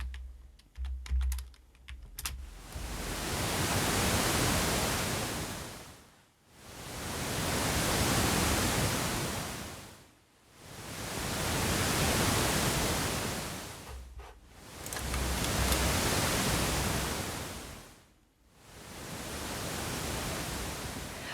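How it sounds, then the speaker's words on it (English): Synthesized pink noise, broadband hissing that swells and fades in long slow waves, each several seconds, like surf, preceded by a few seconds of keyboard clicks. "the pink noise signal"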